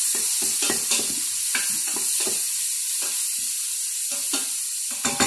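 Vegetables for corn chowder sweat in a pot with a constant close sizzle, while a spoon stirs through them in repeated scraping strokes.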